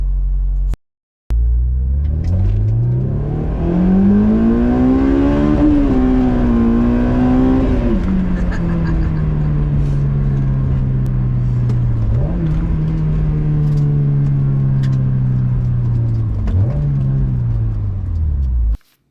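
Honda S2000 engine pulling hard while driving on the road, a loud, close in-cabin rev climbing steadily through the gears with brief dips at each shift, continuous and alone with no talk.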